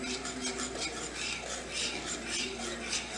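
A spoon works through a flour-and-milk nacho cheese sauce in a pan, giving quiet, steady scraping and swirling strokes that repeat in a soft rhythm close by.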